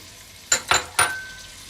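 Quartered onions hitting hot sunflower oil in a pot, three sharp sizzling bursts in quick succession that fade into a low, steady crackle, close and clear with no talk.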